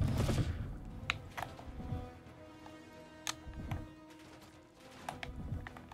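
Gunfire in Call of Duty Black Ops 6 aimed at the player: scattered sharp shots and short bursts, some close and some distant, over a rumbling battlefield background with no talking.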